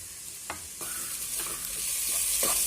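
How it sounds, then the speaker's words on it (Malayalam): Onions sautéing in oil in a pan for a noodle and cheese snack, a steady hiss that gradually brightens, with a few scraping strokes of a spatula, close and moderately loud, nobody speaking. "ഉള്ളി നന്നായി വഴന്നു വരുന്നിട്ടുണ്ട്"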